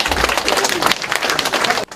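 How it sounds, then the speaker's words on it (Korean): Dense, continuous clapping from an audience welcoming a presenter at a college event in Korea, steady and fairly loud for about two seconds before cutting off abruptly at the end. "박수로 맞이해주세요."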